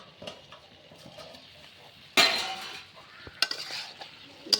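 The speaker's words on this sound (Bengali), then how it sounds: "এটা আবার ভালোভাবে নেড়ে দিচ্ছি।" Duck Chettinad curry is stirred in a pan with intermittent utensil clinks and scrapes, then a sudden loud sizzling burst that fades, followed by more scattered stirring taps.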